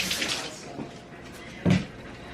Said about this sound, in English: Okay, so I'm gonna rinse this one off.